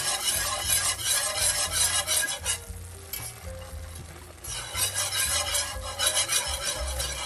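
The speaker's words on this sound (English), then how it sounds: "Whisking continuously." Milk whisked continuously into a sauce in a pan, a steady close scraping and swishing with a rhythmic stir and faint sizzle, easing off briefly midway before resuming.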